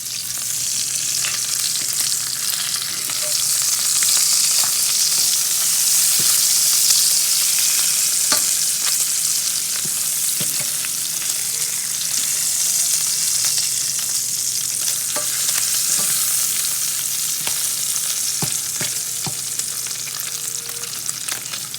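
Bacon frying in a pan, a loud continuous sizzle and crackle with occasional scrapes and taps as the strips are turned with a fork.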